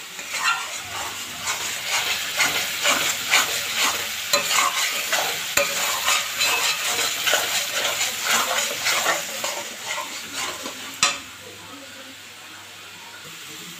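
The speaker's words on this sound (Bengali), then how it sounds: "হলুদ গুঁড়ো, লঙ্কার গুঁড়ো, লবণ, জিরে গুঁড়ো সব দিয়ে ভালো করে কষিয়ে নিচ্ছি।" A masala paste of turmeric, chilli powder, salt and cumin powder stir-fries in a pan for bhindi. Rhythmic scraping strokes ride over a close sizzle and hiss, then the stirring stops and the sizzle quiets near the end.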